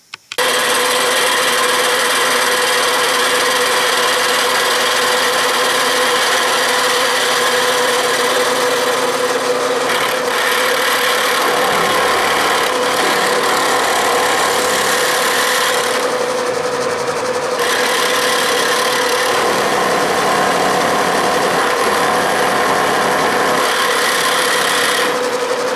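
A milling machine cuts steel on a left-hand drill press vise in a home machine shop, a steady loud grinding rasp over a motor hum that runs unbroken for the whole stretch, shifting slightly in tone partway through.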